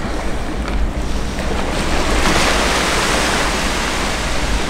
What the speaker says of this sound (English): So this is what we get to wake up to: beach and ocean sounds.